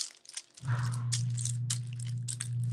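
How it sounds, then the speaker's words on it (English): A garage door starting to open, a steady low motor hum that starts up suddenly and keeps droning, with scratchy crinkling handling noises close by on top. "That is the garage door opening, if you're wondering what that sound is."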